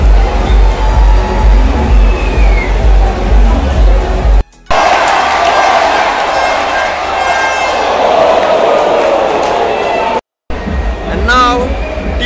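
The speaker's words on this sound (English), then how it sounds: "Pollard is being welcomed by a loud reception from the Mumbai crowd." Loud stadium crowd roaring and cheering as batsman Kieron Pollard walks out for Mumbai Indians against Delhi Capitals in an IPL 2022 cricket match at Brabourne Stadium, a dense continuous crowd wash with a commentator talking over it and two brief dropouts.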